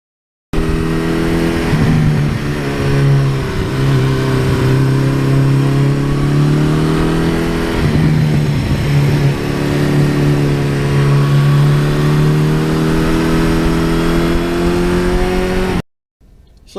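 A 1982 Suzuki GS1100E motorcycle engine idles loudly and rumbles with throttle blips, the deep mid-pitched roar steady and close throughout before cutting off near the end.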